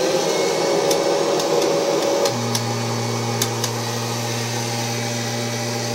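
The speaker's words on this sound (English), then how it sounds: "this vacuum here I'm about ready to run has not been ran in quite a while" An 80th Anniversary Kirby Generation 4 upright vacuum cleaner runs with a loud, steady motor whine and airy rush, its pitch shifting partway through before settling into a lower constant hum with faint clicks.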